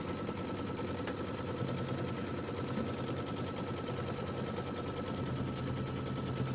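An embroidery machine stitches a placement line for accent fabric with a fast, steady, mechanical chattering rhythm that runs close and even, with no one talking.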